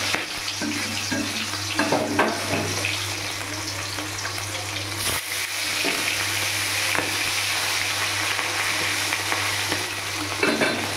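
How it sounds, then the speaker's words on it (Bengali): Two fish frying in hot oil make a steady, dense sizzle and crackle close up, continuous for the whole stretch with a brief dip midway and no talking. "গরম হয়ে গেছে, আমি এই মাছ দুটোকে ভেজে নেব।"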